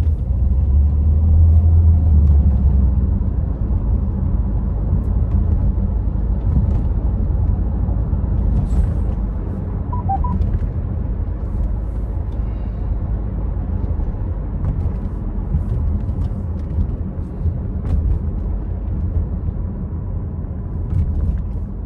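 A Nissan X-Trail engine pulls steadily as the car accelerates up through the gears, a continuous low rumbling drone heard from inside the cabin with road noise and no talking.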